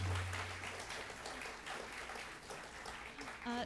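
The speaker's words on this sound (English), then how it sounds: "can I have one more warm round of applause for our wonderful speakers?" A lecture audience applauds the speakers after a talk on Japanese folklore, a steady wash of clapping from many hands at moderate distance, with some speech mixed in near the end.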